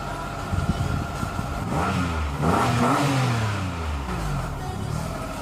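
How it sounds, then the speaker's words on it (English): A car engine freshly repaired after a head gasket fault is revved several times close up, rising and falling in pitch over a steady idle, with no talking. "And I'm going to rev the engine and we're gonna see if it's work or no."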